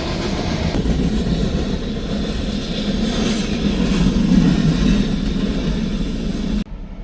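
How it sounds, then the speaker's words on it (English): A long freight train rumbles past a crossing in open prairie, a steady loud rolling roar with rail clatter that holds for several seconds before cutting off abruptly near the end. "Let's see how long this train looks."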